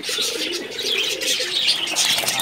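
High-flying loft pigeons coo softly and repeatedly, low throaty burbling calls layered over one another with faint chirps in the background, close by.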